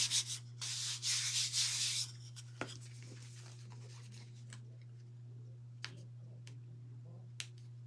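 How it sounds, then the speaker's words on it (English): A cork-backed craft piece is sanded by hand in a quick, faint burst of scratchy rubbing strokes, followed by scattered small taps and ticks in a quiet room. "Make sure it doesn't have all that dust from sanding it."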